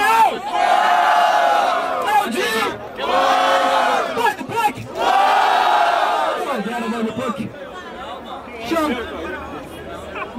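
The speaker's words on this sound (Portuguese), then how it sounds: "Barulho do Revolucionário vendo o freestyle do MC Aldião" A crowd at a freestyle rap battle in Brazil roars with loud, sustained cheering and chanted shouts in several big waves, thinning toward scattered voices and chatter at the end.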